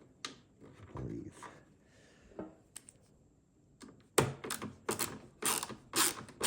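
Screws being driven into a Vollara Surface Pro air purifier during repair, with quiet handling at first, then louder ratcheting mechanical clicks in quick bursts.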